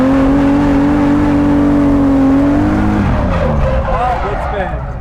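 M3-engined BMW E30 spinning its tires: a loud, steady engine roar with a sustained squeal that bends and breaks up as the car slides, people talking over it.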